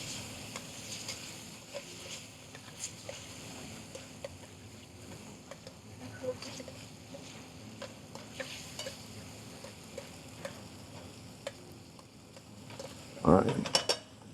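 Shrimp being stirred through barbecue sauce in a hot pan for South Carolina BBQ shrimp and grits, with a steady low sizzle and soft scraping throughout, ending in a louder clatter of utensil against the pan.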